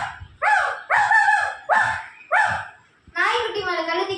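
A schoolgirl mimics a puppy with her voice, giving four sharp, evenly spaced yapping barks followed by a longer whining yelp, loud and close with no other sound around.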